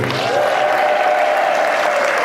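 Applause fills the room after the crowd is asked to clap again for a woman, a steady dense wash of many hands clapping from start to finish, with a faint sustained tone running underneath.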